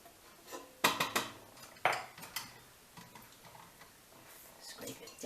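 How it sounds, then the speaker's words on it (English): Yeast dough is scraped out of a mixing bowl: a handful of sharp utensil scrapes and knocks against the bowl, close and fairly quiet, with irregular pauses between strokes. "I'm going to set this down and scrape out all the yeasty goodness."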